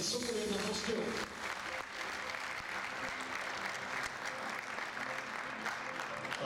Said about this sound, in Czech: potlesk ještě jednou pro nohybalisty Sokol 1 Prostějov